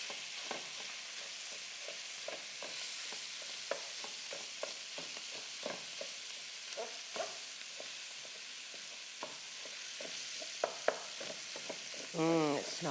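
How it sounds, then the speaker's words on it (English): Ground turkey sizzles steadily in a hot pan while a wooden spoon breaks it apart, giving soft repeated taps and scrapes every second or so over the frying hiss. "take just a wooden spoon and break it up"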